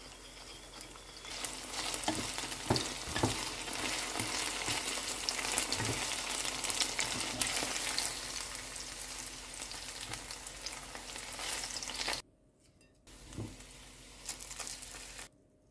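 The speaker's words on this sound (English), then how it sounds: "In a frying pan with a medium heat, put the eggplant and let it fry for 5 to 8 minutes until lightly brown" Eggplant fries in a pan over medium heat with a steady, close sizzle and occasional stirring scrapes. The sizzle drops away briefly near the end and then returns.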